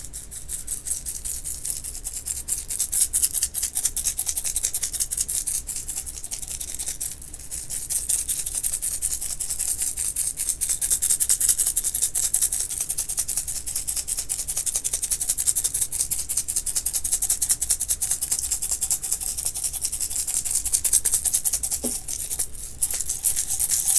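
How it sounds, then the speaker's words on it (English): A shaker is shaken steadily and close up for a long stretch, making a continuous dense rattling hiss with slight swells in intensity and a brief dip early on, with no talking. "That was the shaker."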